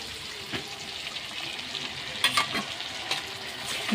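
Mustard paste is stirred in a frying pan while shrimp and yam stems cook, with a steady low sizzle under a few scraping strokes of a spoon against the pan, close and moderately loud.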